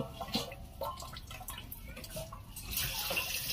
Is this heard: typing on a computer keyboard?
no